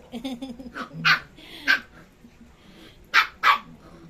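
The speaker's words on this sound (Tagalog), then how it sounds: "Hindi niya maagaw, dinaan niya na sa tahol." A dog barks sharply several times, with a couple of loud close barks standing out among softer growly yaps.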